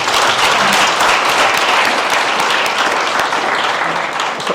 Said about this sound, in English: let's give our speakers this afternoon a warm round of an applause